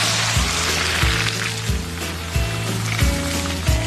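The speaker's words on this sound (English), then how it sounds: "that's frying up quite nicely and the temperature of the oil is bang on" Panko-coated red snapper fillets crackle and sizzle in hot oil by the sea, a bright steady hiss close by, with low rhythmic thumps repeating underneath.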